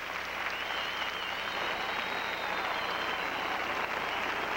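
An arena crowd at the 1984 U.S. Figure Skating Championships in Salt Lake gives a standing ovation to a skating pair, sustained roaring applause that stays loud and dense from start to finish.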